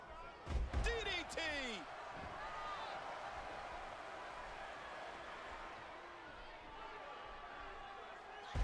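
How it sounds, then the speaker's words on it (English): A wrestler is driven into the mat by an inverted DDT in the WWE 13 video game, a sharp slam near the start followed by a steady arena crowd roar that continues throughout. "Inverted DDT, driving the back of the skull into the ground."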